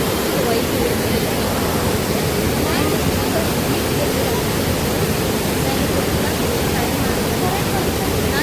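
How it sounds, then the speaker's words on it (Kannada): A small waterfall rushes over rocks in a stream near Chikmagalur, its white water making a loud, constant roar that fills the whole clip. "ಇಲ್ಲಿ ನೋಡಿ ಜರಿ ಇದೆ. ಇಲ್ಲೆಲ್ಲ ಈ ರೀತಿ ಹಾರ್ಕೊಂಡು ಬರುತ್ತೆ ನೀರು"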